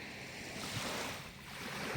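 Sea surf washing onto an Italian shore on a hot summer morning, a steady broadband wash of waves with gentle swells, mixed with wind buffeting the microphone and no voices.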